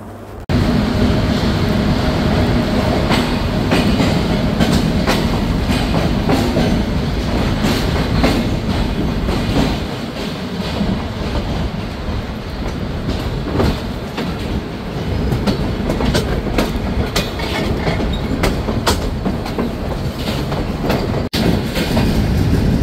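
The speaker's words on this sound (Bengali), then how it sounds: "৮:১৫ আন্তনগর সুন্দরবন এক্সপ্রেস ট্রেন ঢাকা থেকে খুলনা অভিমুখে রওনা দিল" The Sundarban Express intercity train from Dhaka to Khulna rumbles loudly and steadily close by, its wheels clattering rhythmically over the rails with occasional sharper clacks.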